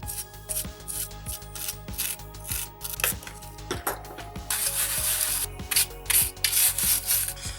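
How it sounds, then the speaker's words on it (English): A brush scrubbing a corroded, greenish socket on an Amiga RAM expansion board, giving close, rapid back-and-forth rasping strokes in a steady rhythm that grows busier toward the end. "Let's see if this brush can do anything about the greenish tint on that socket."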